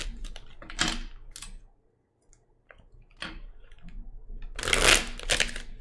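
A deck of playing cards riffles in a few brisk, crackling bursts, close and fairly loud, with a short quiet gap between them.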